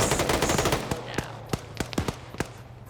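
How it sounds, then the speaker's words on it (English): Rapid bursts of video-game machine gun fire rattle out in quick volleys, thinning into sparser, separate shots and cracks toward the end, moderately loud and close. "so we don't hear the gunfire"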